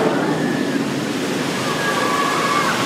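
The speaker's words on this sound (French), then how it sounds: "tu te positionnes à la sortie du tunnel. Tu vas voir, ça va éclabousser un peu" Water rushing and splashing at the exit of a tunnel near the Osiris ride at Parc Astérix, a steady broadband wash with no break, loud and close throughout.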